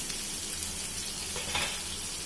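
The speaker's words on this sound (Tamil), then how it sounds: "இப்போ வெங்காயம் நல்லா வதங்கட்டும்" Onions sauté in hot oil in a pan while being stirred for tomato rice, giving a steady, even sizzling hiss with a soft scrape of stirring. Close, unbroken and without talk.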